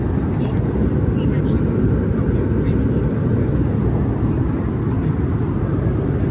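Steady, loud airplane cabin drone in flight over the South African bush, a broad continuous engine and air roar with no breaks, heard alone throughout.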